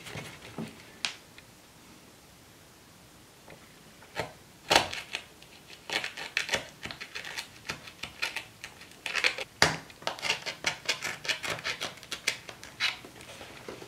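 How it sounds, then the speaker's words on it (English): A knife slices eye slits through a skull prop covered in toilet paper and glue, giving a run of short, crisp scraping and tapping cuts. They come in uneven clusters, close and fairly quiet, with no talking. "I'm going to take this knife, I'm going to cut some eye slits right here, just clear across."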